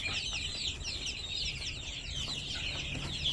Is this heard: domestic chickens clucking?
yes